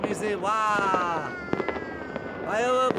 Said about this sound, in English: Firework. Yeah. So many.